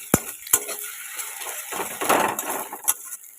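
Egg being scrambled into bhujia in a pan. A spatula clacks sharply a few times against the pan, and there is a soft stirring rasp with a light sizzle under it.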